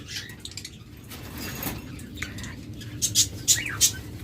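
Pet green opaline lovebirds at a bird shop give a few short, bright chirps toward the end, rising above a steady murmur of shop background noise.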